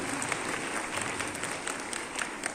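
An audience at a school event claps to welcome a guest, a dense, steady burst of applause filling the hall without speech.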